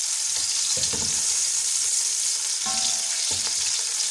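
Onions frying for chicken pulao, giving an even, close sizzle with two bursts of stirring clatter from the spoon against the pot.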